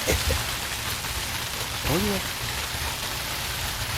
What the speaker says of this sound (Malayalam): അത് മഴ പെയ്യുന്നൊന്നും അല്ല, ആ വാട്ടർ ടാങ്ക് നിറഞ്ഞു പോകുന്നതാ